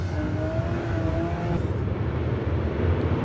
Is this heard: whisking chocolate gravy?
no